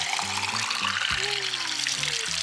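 Spring water spouts steadily from a large Buddha fountain into a jug, a continuous splashing, gurgling pour with a rising tone as the vessel fills, close and fairly loud.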